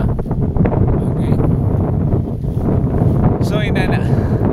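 Gusty wind in a cogon grass field in Malongcay, Dauin, Negros Oriental, Philippines, buffets the microphone in a continuous low rumble, with a brief creaking rattle near the end.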